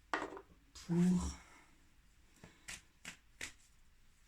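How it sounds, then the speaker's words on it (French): Tarot cards being shuffled by hand in short riffling bursts and soft taps, close and crisp, with a few quiet spoken words in between. "C'est ça qui vient en brassant les cartes"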